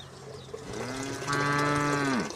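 Cattle on a farm give a long, loud bellowing moo that rises and then trails off, close by and outdoors, with no talk over it.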